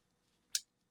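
A single short, crisp snip of scissors cutting crochet yarn, close and fairly quiet against near silence.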